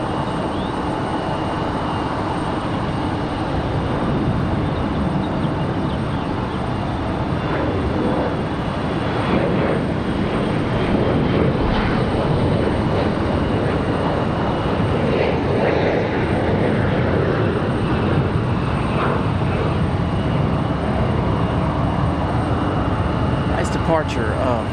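Airliner on the Philadelphia flight departing Raleigh-Durham airport, a steady broad jet roar that holds for the whole stretch and swells gently, with distant ambient airport noise.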